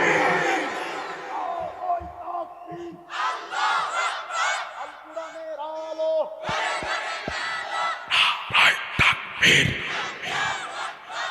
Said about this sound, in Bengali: চট করে দাঁড়িয়ে তাকবীরের হুঙ্কারে আল্লাহকে জানিয়ে দিতে হবে আমরা ইসলামের পক্ষে রয়েছি